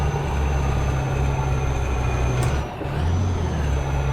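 A Mitsubishi FE 449 truck in Euro Truck Simulator 2 drives with a loud, steady low engine rumble, briefly dipping as if shifting gear before the drone resumes.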